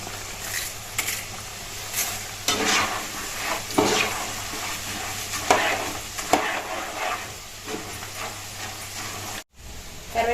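Dried red chillies frying in hot oil as a tempering for a flattened rice dish, a steady close sizzle with scattered stirring scrapes, briefly cut off near the end.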